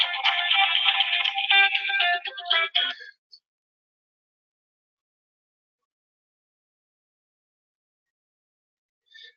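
A phone ringtone plays loudly for about three seconds as a bright electronic melody, then cuts off into silence, with a brief faint chirp near the end.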